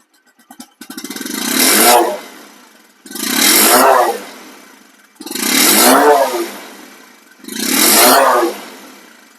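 A second-hand Bajaj Discover 125cc motorcycle engine revs hard four times in even succession, each throttle blip rising and falling back to idle, loud and close with no talking.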